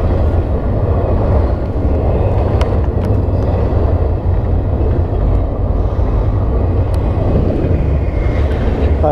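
A train passing a crossing during a park ride, heard as a loud, steady low rumble and roar that holds for the full length with faint higher clatter on top.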